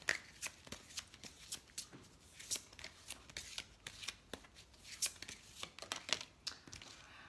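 Tarot cards being shuffled by hand, a close, soft series of riffling and sliding bursts with light papery snaps, repeating irregularly over several seconds.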